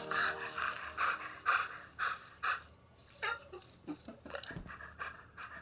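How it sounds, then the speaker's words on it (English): Rasputin's dog in Destiny 2 pants close by in quick rhythmic bursts, followed by a few snorts and soft breathy huffs. "Rasputin's dog."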